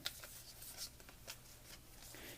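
Faint, close riffling and soft slaps of Yu-Gi-Oh cards being shuffled by hand, a few quick bursts over a quiet background.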